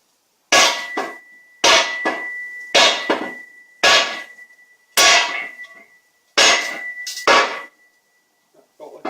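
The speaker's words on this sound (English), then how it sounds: "so we'll just keep tapping it down" A hammer taps a protective block on top of an aluminum part, giving seven sharp, ringing metallic blows spaced about a second apart. Each strike is loud and close, with a brief clanging ring after it.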